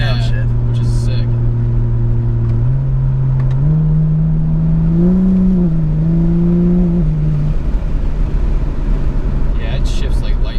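A tuned 350 whp 2011 BMW 135i with a dual-clutch transmission accelerates, its engine tone climbing and stepping through quick shifts, heard from inside the car under a steady drone.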